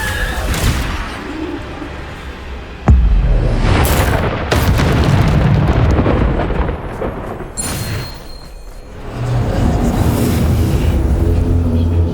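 Spell explosions boom repeatedly in the Hogwarts Legacy video game, several loud, deep blasts with sharp onsets and rumbling tails over a continuous busy backdrop of game sound.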